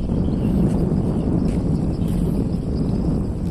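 Wind at the Kualuh Leidong fishing harbour in hot weather, a steady broad rushing and buffeting at the microphone, loud and continuous from start to end with faint higher noises above it.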